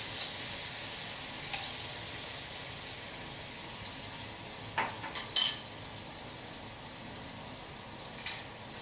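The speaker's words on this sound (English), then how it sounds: "you do want to saute a bit so that it can actually remove the earthiness" Pickled red and green chili sizzles steadily in a hot pan as it sautés for a seafood stew. The soft, continuous frying hiss is broken by a few small clinks and scrapes of stirring.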